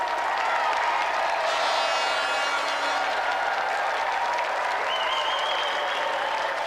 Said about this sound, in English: applause for a brilliant impromptu challenger, Helen Williams.